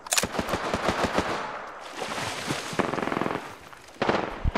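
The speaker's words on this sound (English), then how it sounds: "There's fucking shots." Gunshots in a shooter video game: rapid bursts of automatic fire, sharp and close, with a short lull in the middle before another volley near the end.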